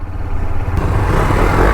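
A motorcycle revs hard while riding past on a wheelie, its engine rising to a loud, rough, close roar that builds steadily and stays forceful to the end.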